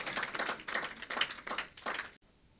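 An audience at a customs stakeholder consultation gives a brief round of clapping, a soft, fairly distant patter in several swelling bursts that cuts off abruptly.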